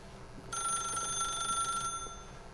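An old-fashioned telephone bell rings in The Stanley Parable video game, one sustained ring of bright metallic trilling that starts abruptly and stops after about a second and a half over low background ambience.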